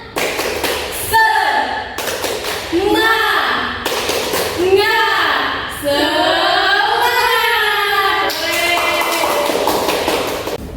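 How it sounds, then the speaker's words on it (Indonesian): Schoolchildren in a classroom perform a rhythmic clapping chant, sharp claps in a steady patterned beat while their voices chant along in unison, close and lively. "Tepuk semangat."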